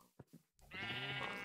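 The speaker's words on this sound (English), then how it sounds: "So we were able to wrangle up some sheep" A sheep in Minecraft bleats once: a few soft clicks, then a loud, sustained, wavering bleat up close with no talking.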